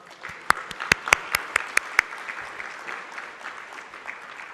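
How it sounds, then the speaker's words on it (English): Applause at an Islamic schools association welcome event: a handful of sharp, distinct claps near the start, then a looser, softer patter of clapping that thins out toward the end. "May we please recognize their contribution with a round of applause and a loud mashallah"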